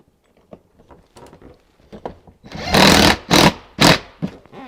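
Mounting hardware being tightened on a Polaris General 4-seat vault: a few light taps and clicks, then three loud buzzing, ratcheting bursts close by, followed by softer clicks.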